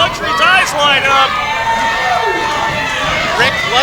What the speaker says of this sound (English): the crowd calling for one more time